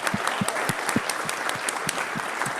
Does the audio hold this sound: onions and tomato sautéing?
no